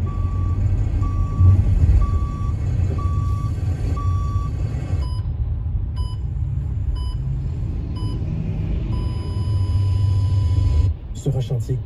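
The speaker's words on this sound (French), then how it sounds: "Sur un chantier, chaque manœuvre de recul d'un véhicule comporte des risques." A truck on a construction site sounds regular reversing beeps over a low engine rumble, with a voice talking over it throughout.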